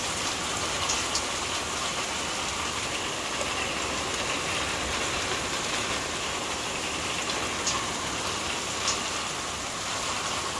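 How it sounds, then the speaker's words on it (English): Dense, steady downpour of heavy rain with hail hissing on surfaces at an RV basecamp in New Mexico, loud and unbroken, with occasional faint sharper ticks of hail mixed in. "Getting our first big rain that I've ever seen."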